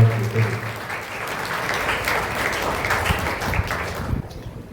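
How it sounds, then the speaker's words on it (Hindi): A church audience at a novena in Karnal, Haryana, gives sustained, dense applause that carries for several seconds before tapering off at the end. "तालियां बजाकर फादर जी को धन्यवाद देते हैं।"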